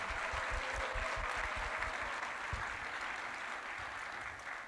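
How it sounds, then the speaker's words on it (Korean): Steady audience applause fills a church hall at the opening of the Gwangju city choir hymn festival, a dense, even wash of many hands clapping with low thumps underneath, continuing loud throughout. "큰 박수 부탁드립니다"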